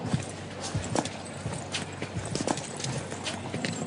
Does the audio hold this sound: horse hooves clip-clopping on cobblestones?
yes